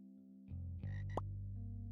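Virtual frog in a frog-raising video game giving a short, bright croak over a steady synthesized game music bed, with no speech.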